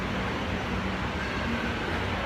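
MRT train running into Punggol station in Singapore, a steady low rumble with a faint rising whine, even in level and moderately loud for the whole stretch.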